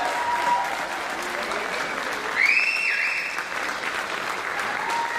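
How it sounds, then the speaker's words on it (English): Audience at a school band spring concert claps steadily in a full, even wash of applause, with a brief whistle-like tone and faint voices above it. "Let's give all of them a big round of applause"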